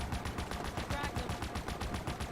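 Rapid automatic gunfire in Halo Infinite, a dense loud stream of rhythmic shots with a faint voice beneath.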